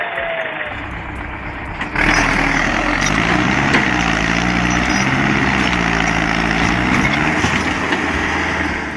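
A tractor engine drones steadily while hauling a roughly 5,000-pound wood trailer by chains along a frozen trail, loud and close, swelling sharply about two seconds in and then holding a heavy, continuous roar.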